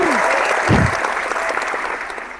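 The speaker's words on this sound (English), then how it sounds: "Wait, where's the clapping sound?" Loud applause from a crowd fills the whole stretch, steady and dense clapping with a brief swell near the start and a gradual fade toward the end.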